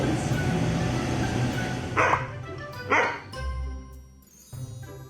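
A dog that works behind a shop till counter gives a few short barks and yips with pauses between them, close and fairly loud over low background noise.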